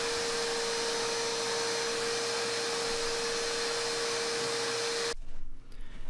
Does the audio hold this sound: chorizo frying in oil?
no